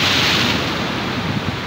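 Sea surf at Ujung Karang beach, Meulaboh, West Aceh, a broad steady wash of breaking waves mixed with wind buffeting the microphone, close and fairly loud with no talking.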